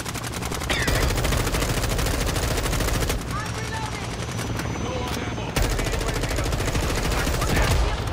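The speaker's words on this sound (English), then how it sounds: "Jesus, I took that thing out with an M4" Sustained M4 rifle fire in a multiplayer video game, dense rapid bursts running nearly continuously and loud, with a brief drop in intensity midway.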